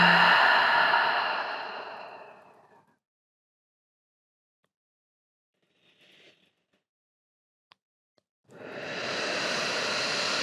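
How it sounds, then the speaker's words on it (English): Slow, audible exhales through the mouth during an evening relaxation yoga session: a long breathy release, a pause of near silence with a faint soft breath, then another long exhale. "release your next few exhales through your mouth"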